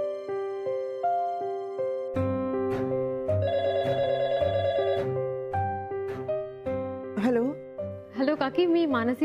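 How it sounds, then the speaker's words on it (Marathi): A telephone rings during a call, a steady electronic ringing tune of held tones over several seconds, with people talking over it toward the end. "करताय ना मोहनला फोन? हो करतो मी."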